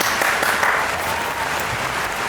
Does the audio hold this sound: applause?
yes